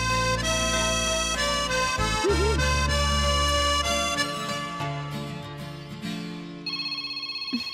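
A telephone rings with a melodic, tonal ringtone that plays steadily for several seconds, shifts pitch partway through and fades toward the end, with no talking over it.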